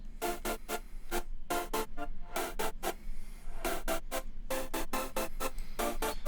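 Layered Serum synth chords swell and cut in choppy rhythmic bursts under volume automation, a loud, steady stream of stuttering chord stabs with brief gaps.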